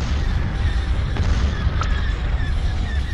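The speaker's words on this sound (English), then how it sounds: "Cañón de iones disparando." Ion cannon firing in a Star Wars space battle game, a steady rumbling wash of distant booms and blasts with a few brief sharp bursts over continuous low engine noise.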